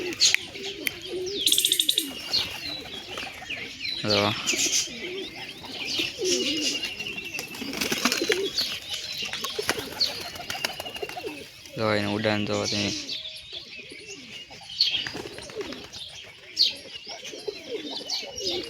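Wild pigeon chicks and adult pigeons, with soft repeated cooing and scattered chirps, close by, and someone speaking intermittently over the birds.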